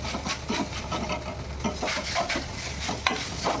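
Grated coconut fries in refined oil, with a close, continuous sizzle and scraping stirring strokes throughout.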